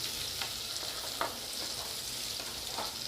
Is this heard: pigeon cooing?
no